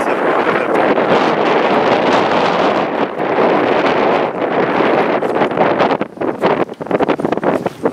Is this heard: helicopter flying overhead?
no